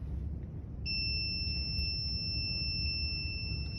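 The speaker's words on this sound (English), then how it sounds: "there was a beep sounding before the accident occurred" A traffic accident detection camera aimed at an intersection emits a steady, piercing electronic warning tone that starts about a second in and holds continuously over a low background rumble.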